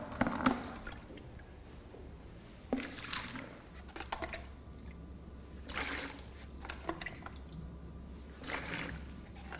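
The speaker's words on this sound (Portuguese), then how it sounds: "Agora nós vamos fazer a retirada da água do vaso sanitário." Water is scooped by hand out of a toilet bowl with a disposable cup, giving wet splashes and drips in separate bursts a few seconds apart, close and fairly soft, with quiet pauses between scoops.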